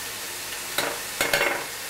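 Ground pork being stir-fried with crushed pepper and chili bean sauce for Sichuan-style ma po tofu: a faint steady sizzle with two louder bursts of scraping and stirring in the pan.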